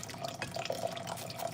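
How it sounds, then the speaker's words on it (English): Water pours steadily into a pot of porridge while it is gently mixed, a soft continuous trickle with light splashy drips, fairly quiet and close, with no voices. "as we pour in the water"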